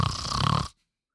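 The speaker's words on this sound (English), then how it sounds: "you're gonna be snoring" A person snores once, a rough, rattling breath about half a second long, loud and close, then cuts off into silence.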